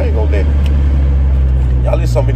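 Traffic of cars on a road, a constant low rumble of engines and tyres close by, with a person talking over it.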